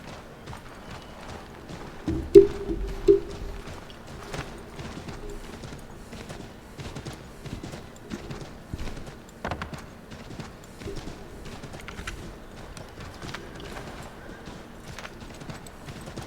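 Horse hooves clip-clop in Assassin's Creed III, a steady rhythmic trot of soft knocks continuing throughout at moderate distance, with a couple of louder thumps early on and faint game ambience beneath.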